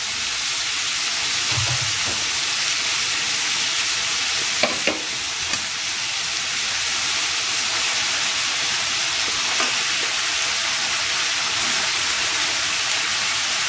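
Steady loud sizzling and frying hiss as half a kilo of partly cooked mutton goes into onions sautéing in a pan for mutton karahi, with a few brief clinks of stirring, no talk.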